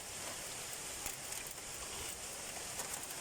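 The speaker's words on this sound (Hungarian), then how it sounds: "Micsoda jégeső van." A heavy hailstorm with a cloudburst in Pápa, Hungary, gives a dense, steady roar of hailstones and rain hammering surfaces, constant and loud for the whole stretch, with no voices.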